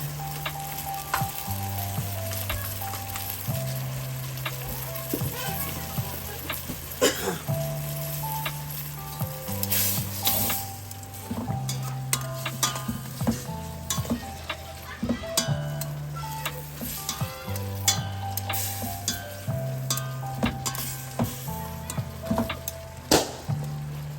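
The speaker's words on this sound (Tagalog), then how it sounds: "Lagyan natin ng pasta water." Pasta water poured into a hot pan for eggplant pasta, sending up a loud, steady sizzle with scraping and stirring clatter and a low rhythmic hum in the background, close and continuous.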